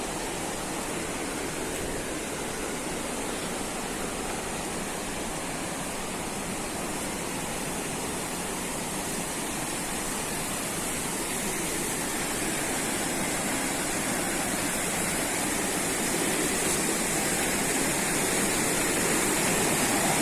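A waterfall on the Lae Kombih river roars steadily in a broad, unbroken rush of falling water that stays loud and constant throughout, with no voices over it.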